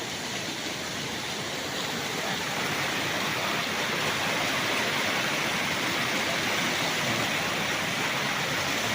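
River water rushing beside a farm lot in Majayjay, Laguna: a steady, dense wash of flowing current, loud and unbroken from start to finish with no voices.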